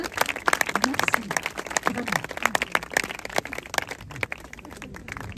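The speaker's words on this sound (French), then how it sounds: "Bravo à eux, on les applaudit aussi" A crowd at a supporters' gathering in Nancy gives loud, rapid, sustained applause with sharp individual claps standing out, while a voice speaks over it throughout.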